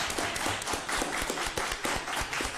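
Crowd at a school board meeting clapping, a dense run of overlapping hand claps at steady moderate loudness, fairly close, with no talk.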